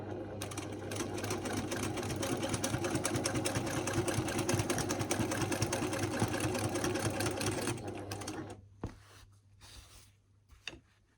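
Sewing machine stitching free-motion quilting, a steady fast rapid-fire needle chatter running continuously for several seconds before stopping, followed by a few faint handling clicks.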